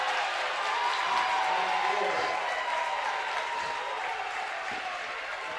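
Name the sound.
Bronx cheer from basketball home crowd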